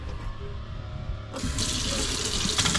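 Tap water running with the pump switched on: a faint trickle, then a sudden jump to a strong, steady full-pressure gush into a sink, close and continuous.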